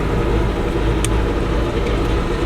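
Boat engine of a Glastron-Carlson CVX23 on a test run with a little throttle applied, a loud continuous low mechanical drone that holds fairly steady, close by with no talk.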